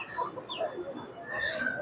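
Chickens cluck intermittently at a wholesale poultry market in Rayer Bazar, Dhaka, where ducks and pigeons are also sold, with a few short calls over a busy, steady background.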